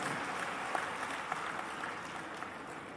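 An audience at a community youth introduction gathering in Bhopal claps steadily, a dense, continuous patter of many hands filling the room at even loudness.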